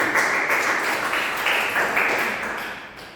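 A short burst of classroom applause, dense clapping that holds steady for a few seconds and then gradually fades.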